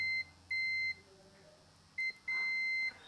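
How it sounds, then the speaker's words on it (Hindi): A multimeter set to continuity range, used while repairing a Samsung LED TV, gives a steady high electronic beep each time its probes touch: three close, clear bursts, the middle one brief, with no talk. "जब दोनों प्रोब को हम टच करेंगे तो बीप साउंड आएगा"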